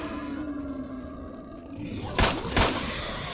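Two sharp, loud gunshot blasts in quick succession near the end, following a low droning ambience, in S.T.A.L.K.E.R.: Shadow of Chernobyl.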